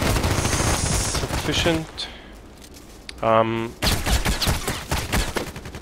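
OTs-33 Pernach automatic pistol in the video game Contract Wars firing rapid automatic bursts, loud and crackling, with pauses between bursts and someone talking over parts of it.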